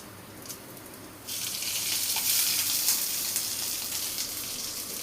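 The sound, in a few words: frying ingredients in mustard oil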